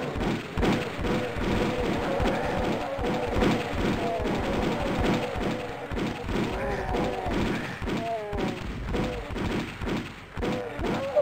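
Repeated pistol shots from the Doom mod Cringe, fired in quick, uneven bursts of sharp thuds against a busy, loud game soundtrack, with a voice talking over parts of it.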